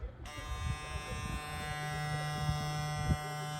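A Gamma Golden Gun hair clipper with double magnetic guards runs with a steady, fairly quiet electric buzz close by, holding one even tone for several seconds with light handling noise underneath.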